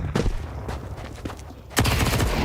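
MP9 submachine gun fire in Counter-Strike rings out in rapid bursts of crackling shots, a short rattle early, then scattered pops and a dense, loud volley at the end, with no voices over it.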